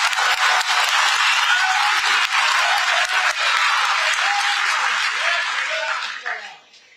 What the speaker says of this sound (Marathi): आता पुरुष आणि महिला सगळ्यांनी एकत्र टाळ्या तरी वाजवा किमान.